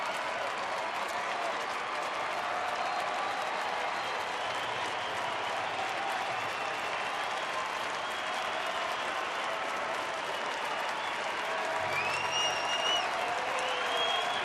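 A baseball stadium crowd at a Rangers home game against Seattle applauds steadily and evenly for the whole stretch, with a broadcast commentator's voice faintly underneath.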